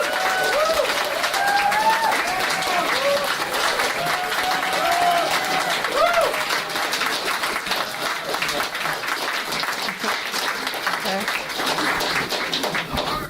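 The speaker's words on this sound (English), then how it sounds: "I would really, really like you to give a round of applause to all the committee" A crowd applauds the committee at a festival prize event, sustained full clapping that carries on for many seconds with scattered whoops and voices mixed in.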